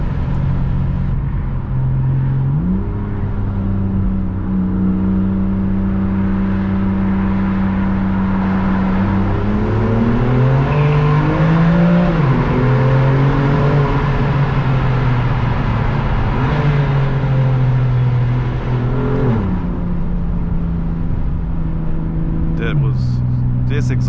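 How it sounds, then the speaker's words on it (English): Inside a tunnel with the sunroof open, a 2020 BMW M2 Competition with a particulate-filter exhaust drones loudly and continuously, its revs climbing and swelling midway before settling back to a steady cruise. "You can hear the sound of the car then"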